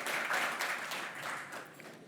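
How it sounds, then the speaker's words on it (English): A conference audience applauds to welcome the next speaker at a PyData tech talk, a steady wash of clapping from a moderate distance that gradually thins toward the end. "Let's welcome him with a round of applause."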